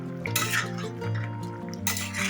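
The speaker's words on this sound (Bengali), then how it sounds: "নুনটা দিয়ে ভালো করে মিশিয়ে দিচ্ছি" A spoon scrapes and stirs through chicken curry in a cooking pot as salt is mixed in, with two bursts of stirring over steady background music.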